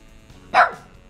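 A cartoon dog gives a single sharp bark, close and clear against a quiet background.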